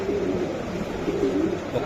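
A racing pigeon coos softly in low, repeated rolling notes against a steady background hum.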